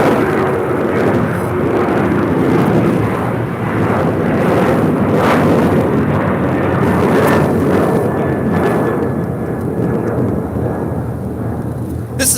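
A United Airlines Boeing 737-900ER takes off at LAX, its jet engines producing a loud, sustained roar and rumble that holds steady throughout, heard from nearby with wind buffeting the microphone.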